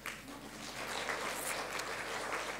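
A church congregation at a Sunday morning service applauds, a soft, fairly distant patter of clapping that holds steady throughout.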